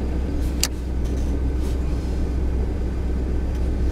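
Steady broadband blowing from the max-speed A/C fan in a 1994 Dodge Ram van, a constant close whooshing rumble with no talk.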